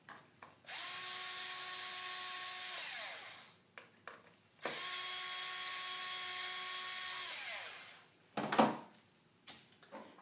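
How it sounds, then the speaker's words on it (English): A powered Phillips No. 2 driver sets screws into the plastic case of an oxygen analyzer: two long, steady whirring runs that wind down at the end, then a few sharp clicks and handling knocks. "We'll screw in the 4 screws using a Phillips number 2 screwdriver."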